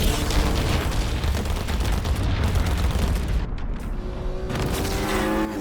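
Heavy gunfire and booming blasts roar continuously while flying on a jetpack at a giant boss during a Fortnite live event, dense and loud without a break.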